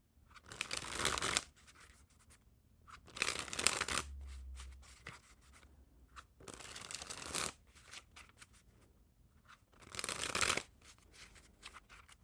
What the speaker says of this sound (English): Pretty nice riffle shuffles, nice and crisp.